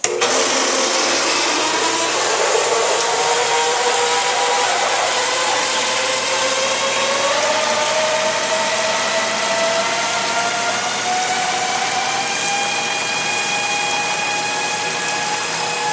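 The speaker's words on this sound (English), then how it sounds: "Pump makes a little bit of noise," A water pump on a homemade tank build hums steadily alongside heating elements, a loud continuous whine with a tone that slowly rises and shifts over sixteen seconds, close and uninterrupted, with no talking.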